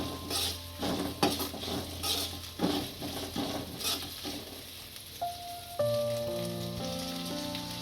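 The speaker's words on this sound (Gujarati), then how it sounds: "કાંદા શેરવી નાખીશું." Onions sauté in a hot pan for a hotel-style soya chilli, giving a steady crackling sizzle with occasional clinks of a utensil against the pan, close up.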